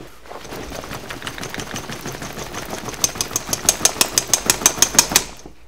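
A Warrior MOLLE pull-down magazine holder is shaken hard, giving a rapid rattling clatter that builds into loud, evenly spaced knocks near the end.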